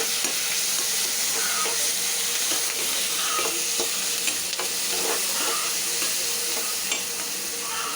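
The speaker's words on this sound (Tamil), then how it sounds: "வெங்காயம் வதங்கிடுச்சு." Onions sauté in a pan with a constant, fairly loud sizzle, broken by repeated scraping and clicking strokes of a stirring spoon, with no voices.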